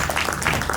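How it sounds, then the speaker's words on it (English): Audience applause fills a hall, a dense, steady patter of many hands clapping at once, close and moderately loud, running unbroken for under a second with no voices over it. "Would you please give him a round of applause?"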